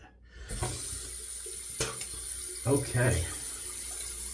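A bathroom faucet runs steadily to rinse a razor during a wet shave, a constant hiss of water with brief splashes and taps against the sink, close, with a short spoken word.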